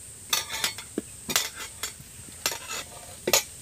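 Fried potatoes are stirred into spiced khichdi in a pan with a metal spoon, giving several scraping, clinking strokes over a soft sizzle, close and moderately loud, with no talk.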